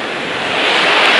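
Stormy sea surf rolling onto the beach at Adler, a loud, dense wash of breaking waves and wind noise building slightly in strength, with no voices.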